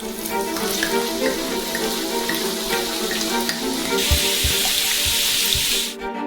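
Champagne poured into a frying pan full of fries sizzles and spatters steadily, then swells into a brighter, louder hiss as more liquid hits the hot pan, with a few clattering knocks near the end.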